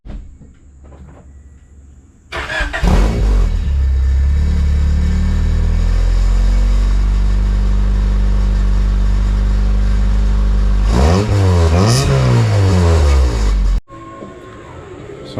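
A 1991 Honda Accord CB7 idles and revs through an aftermarket catback exhaust with a silencer fitted. A loud, steady low drone rattles from a gap at the silencer, with a brief rev surge before cutting off.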